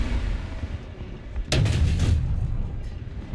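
A German 88 mm tank gun on a Tiger fires once in War Thunder ground battle, a single sharp, heavy boom midway that rolls off into low rumble, with quieter engine noise around it.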